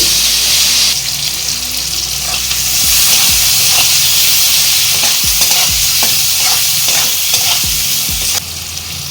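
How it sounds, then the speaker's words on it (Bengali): Onions fry loudly in oil left from frying potatoes for a mutton curry, a dense close sizzle with repeated stirring scrapes and clatters of a spatula against the pan. "আলু ভাজা তেলের মধ্যেই আমি পেঁয়াজ দিয়ে দিচ্ছি পেঁয়াজটা আমি বেরেস্তা করে নেব"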